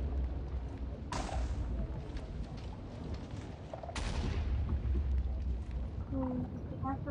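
Two sudden booming cannon blasts in a video game, about three seconds apart, each a broad crack with a rumbling tail, over steady low game ambience with a few faint tonal chirps near the end.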